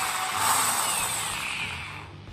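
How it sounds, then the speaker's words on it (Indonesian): Power drill boring holes through an 8 mm iron rod meant as a wheel axle, one continuous close whine that slowly fades, with no talking. "Di sini saya akan melubangi bagian atas dan bagian bawah asnya."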